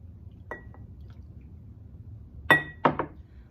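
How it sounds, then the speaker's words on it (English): Milk being stirred into a baking powder mixture in a glass, a few clear clinks and taps of a utensil against the glass, one faint early tap and a louder cluster later, close up in a quiet kitchen. "I'm going to add the liquid to both of these and stir it in."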